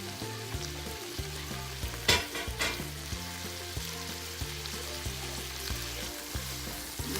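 Corned beef hash with potatoes frying in a pan gives a steady, close sizzle with a few sharper crackles midway, over a low melodic background.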